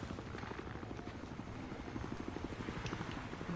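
Helicopter in the video game Battlefield Hardline, a steady rotor chop thrumming close and loud throughout with dense game noise mixed in.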